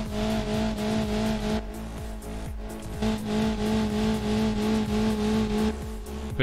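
A car engine in BeamNG.drive holds full throttle, running continuously with a loud, sustained high revving drone and brief tire-squeal-like dips in between.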